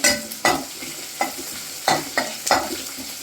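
Ingredients sauté in a pan over a low flame for Marathi eggplant bharit, with a soft sizzle broken by five sharp stirring scrapes at a loose, uneven rhythm.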